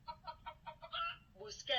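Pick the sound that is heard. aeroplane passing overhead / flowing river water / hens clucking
hens clucking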